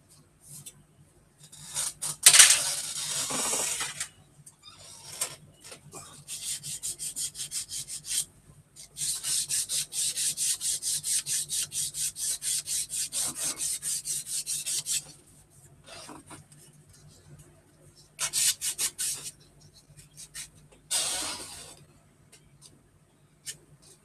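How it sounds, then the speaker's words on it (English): Wet-dry sandpaper is rubbed over rivets on an aircraft wing in repeated rasping bursts, some short and one longer rhythmic stretch of back-and-forth strokes, separated by quiet pauses. "I'll do it with some wet dry sandpaper."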